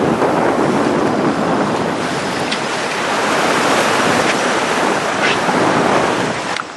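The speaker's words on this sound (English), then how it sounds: "Sitting here bobbing through these waves" Ocean waves wash steadily around a sailboat crossing the Pacific, a dense continuous rush of water and wind noise with a few brief splashes or creaks, no voices.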